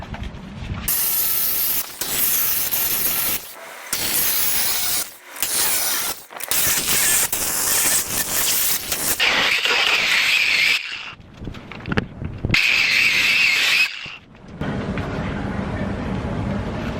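An angle grinder cuts through the steel rear fender of a Mercedes 190E, loud harsh bursts of shrill grinding broken by brief pauses, ending in a lower rumble.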